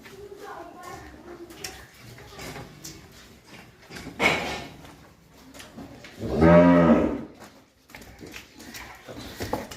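Friesian dairy cows at a farm, with one loud, drawn-out moo near the end and a shorter call earlier, while people talk quietly in the background and soft thumps sound nearby.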